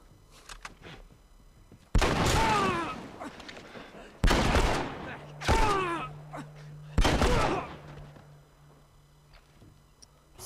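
Loud gunfire in the video game The Last of Us, four separate heavy blasts spaced a couple of seconds apart, each with a long ringing tail, over a quiet game background.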